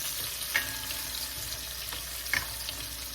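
Onions softening in a pan for chicken afritada give a steady close sizzle, broken by a few sharp scrapes of a utensil against the pan, with no talking.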